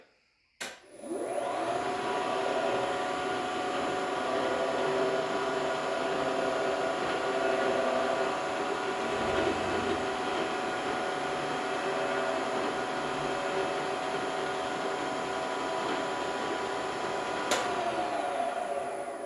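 A milling machine cuts a steel V block in steady passes along the Y axis, a loud, continuous whirring drone with a bright tonal whine that holds for nearly the whole stretch, starting and stopping with brief clicks.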